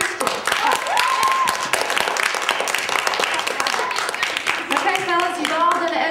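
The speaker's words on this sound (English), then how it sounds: "if you think contestant C is the real Christian, clap" Studio audience clapping on a game-show set, a steady dense patter of many hands running throughout, fairly close, with voices and a child's speech audible over it.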